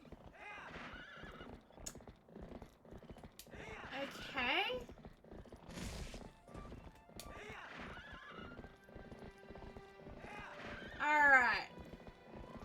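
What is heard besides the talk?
horse neighing and hooves clip-clopping in a video game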